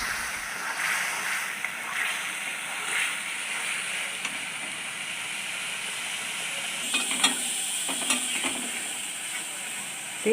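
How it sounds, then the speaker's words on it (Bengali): A ground paste of onion, ginger, garlic and chilli frying in oil in a kadai, stirred with a spoon: a soft, continuous sizzle with occasional scraping strokes, close and fairly quiet, without talk. "তেল ছাড়া অবধি আমি এটাকে নাড়া দেব।"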